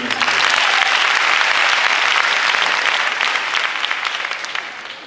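A crowd of guests applauds at an anniversary event, loud, dense, continuous clapping that gradually tapers off toward the end.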